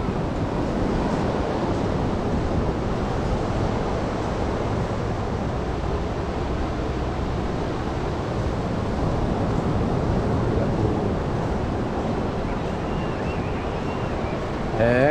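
Ocean surf at Boa Viagem beach in Recife, Brazil, rolls on as a steady wash of waves mixed with wind buffeting the microphone, continuous and fairly loud throughout.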